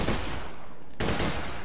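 Rapid burst of sniper rifle triple-shot fire in the video game Borderlands The Pre-Sequel, loud and close, with a dense crackling blast, a short lull, then another volley.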